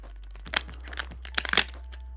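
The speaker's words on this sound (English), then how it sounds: "Take about 4 inches of tape here. We're gonna just fold over the very edge." Short strips of tape are torn and their edges folded over while building a foam-board battle balloon, a few close crinkling rips and crunches in quick bursts with no talking.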